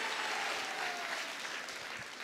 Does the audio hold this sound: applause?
yes